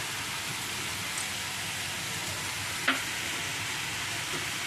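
Mixed vegetable sandwich filling fries in desi ghee while being stirred, making a dense, even, close sizzle like steady rain, with one sharp utensil tap partway through.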